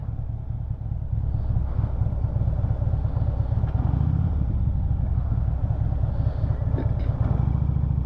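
A Harley-Davidson motorcycle rides a loop with a steady, loud engine rumble close to the microphone, low and continuous throughout, with wind buffeting and some clatter over it.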